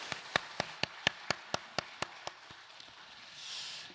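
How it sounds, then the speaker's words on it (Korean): Sparse, distinct hand claps during a Korean church Sunday worship service, roughly a dozen evenly spaced sharp claps fading out after a couple of seconds, fairly faint and small-sounding. "영광의 박수 올려드리겠습니다"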